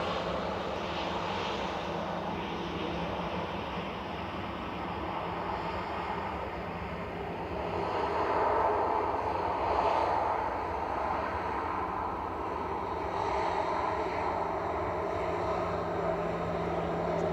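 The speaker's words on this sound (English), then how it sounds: "Lined up, ready to go is EasyJet to Berlin, Airbus A320 GEZUI, flight 2199." An EasyJet Airbus A320 jet at Manchester Airport produces a loud, steady engine roar, swelling slightly midway, with no talk over it.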